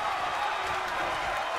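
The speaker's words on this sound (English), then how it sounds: "What a raucous crowd here tonight." Arena crowd in the WWE 2K24 wrestling video game, a steady dense roar of cheering throughout a New Japan Pro-Wrestling IWGP Junior Heavyweight title match, with no single voice standing out.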